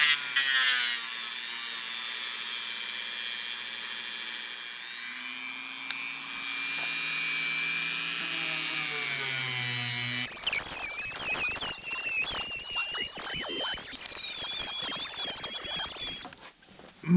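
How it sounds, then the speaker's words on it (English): A Dremel rotary tool with a polishing attachment works on an Imperial Barlow knife, giving a loud, steady high whine that shifts pitch, then a harsher, grinding stretch of spinning contact noise until it stops. "The Dremel with the polish."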